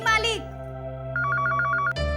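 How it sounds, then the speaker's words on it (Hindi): A telephone rings in a Bhojpuri TV serial scene: a short voice, then a clear electronic bell trill of about eight rapid pulses over a steady tone, cut off by a sharp sound. "फोन उठाओ, घंटी बजत बा।"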